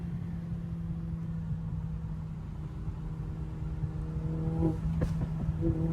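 Mercedes AMG GT 53 running nearby with a low steady exhaust drone, followed late by a few quick burbling pops and a sharp backfire crackle over the hum.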